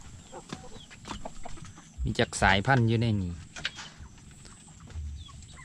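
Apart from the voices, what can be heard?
chickens in a coop built over a fish pond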